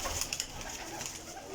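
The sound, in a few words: pigeon cooing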